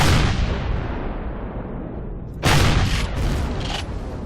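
Heavy booming gunfire and explosions from combat in the video game Empyrion, a loud rumbling blast decaying into a roar, then a fresh burst of sharper shots near the end.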